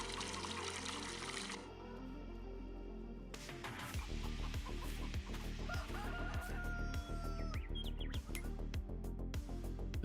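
Chickens cluck and a rooster crows in a Farming Simulator 22 farmyard, busy repeated fowl calls over a steady background, with a brief pour of water at the start and no speech.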